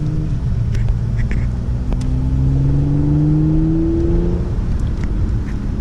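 A supercharged V6 car accelerating from inside the cabin, a loud continuous engine drone that climbs steadily in pitch through the gears with a faint whine above it, and no talk.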